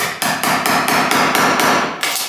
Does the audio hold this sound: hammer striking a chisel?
yes